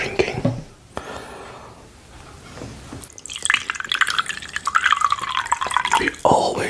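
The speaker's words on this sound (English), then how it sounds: "I'll show you with the water drinking." Wet drinking and lip sounds from a person sipping water close to the microphone in an ASMR setting, quiet at first and then a dense run of slurps, drips and swallows.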